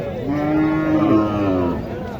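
A single long moo from a cow at a village cattle market in Naogaon, loud and close, rising and falling over about two seconds with little else around it.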